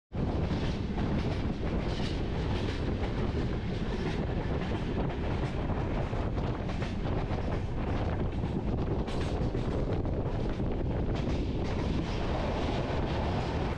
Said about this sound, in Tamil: இந்த ட்ரெயினில் போகிறது லிட்ரலாக வந்து ஏதோ பறந்து போகிற ஒரு ஃபீல் தாங்க வருது